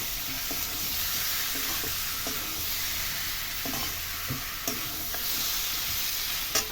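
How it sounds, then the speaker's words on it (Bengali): Fried chicken and potatoes are stirred with spices in a pan, giving a steady close sizzle with a few light scrapes and clicks of the spoon. No voices are heard. "আমি খানিকক্ষণ মশলার সাথে এগুলোকে ভালো করে নেড়ে চেড়ে মিশিয়ে দেব"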